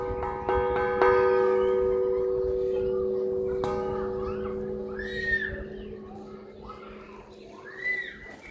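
A large church bell in Gonnosfanadiga is struck a few times by hand, each clang ringing out with a long sustained hum, followed by a quieter lingering tone.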